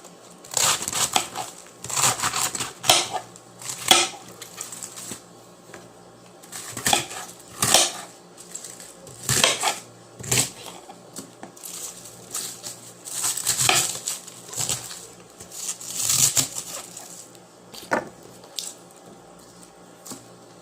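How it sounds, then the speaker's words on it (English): A knife dices half a head of cabbage on a cutting board, making a long run of quick, crisp chopping knocks in uneven bursts, close and moderately loud. "I'm just going to dice this out."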